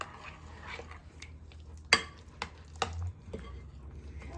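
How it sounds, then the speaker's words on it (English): Penne pasta is mixed with Parmesan cheese in a bowl or pan, giving soft scraping and stirring noises with a few sharp utensil knocks, close and moderately quiet. "And I'm going to mix all this up."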